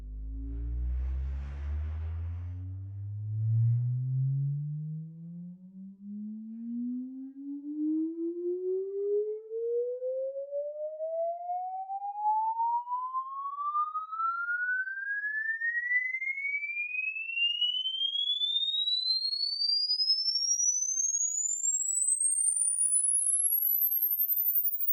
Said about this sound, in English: Now we're gonna try a frequency sweep.